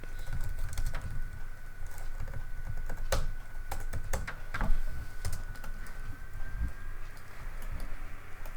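Fingers tap a computer keyboard in scattered, irregular bursts of clicks, close and fairly quiet, with no voices.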